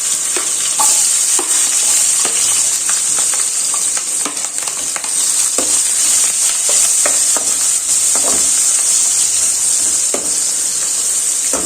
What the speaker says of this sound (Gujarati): પછી આપણે ડુંગળી, આદુ, મરચાં, લસણ આ બધું એડ કરી દેશું અને સાતળી લેશું